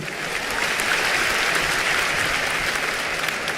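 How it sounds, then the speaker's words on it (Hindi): Loud, enthusiastic applause from a large crowd at a staged royal court during a Jain Janma Kalyanak celebration in Songadh, many hands clapping in a continuous roar for the whole stretch. "पूरा राज दरबार का जोरदार ताली बजा के स्वागत करिए।"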